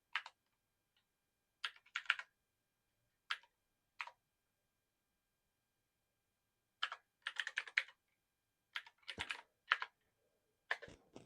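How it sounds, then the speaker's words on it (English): Someone types an unzip command on a computer keyboard in slow, hesitant bursts of crisp key clicks separated by pauses, close and clear in an otherwise silent room. "So unzip, and I got to type it perfectly."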